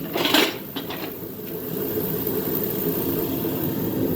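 A turbocharged 3800 engine in a Camaro runs close by with a steady, even drone, after a brief louder burst at the start.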